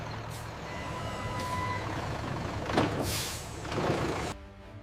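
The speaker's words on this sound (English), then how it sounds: "Trucks arrive on schedule to collect pallets for distribution" Trucks pull up at loading docks outside a carrot chip factory, with a steady engine rumble, a long tonal beep, and two sharp hissing air-brake releases near the end before everything cuts out.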